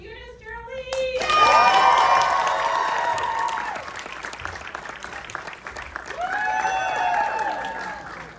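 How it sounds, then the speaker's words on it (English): Audience applause with cheering fills a screening Q&A for the film Bottoms, starting suddenly after a second, sustained and loud, easing midway, then swelling again with whoops near the end. "round of applause for Eunice Jera Lee"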